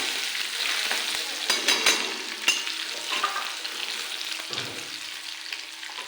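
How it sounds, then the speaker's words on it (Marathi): Mustard seeds, cumin, coriander and curry leaves frying and being stirred in a pan, a continuous sizzle broken by scattered clinks and scrapes of the spoon. "थोडीशी मोहरी कोथंबीर कढीपत्ता हे सगळं व्यवस्थित मिक्स करून घ्यायचं आहे आपल्याला"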